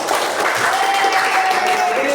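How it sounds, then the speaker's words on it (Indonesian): A class of students clapping together during an Islamic religious studies lesson, a dense continuous patter of hands, fairly loud and close, with a voice calling out briefly over it. "Kita kasih tepuk tangan buat kita semuanya dulu bersama-sama"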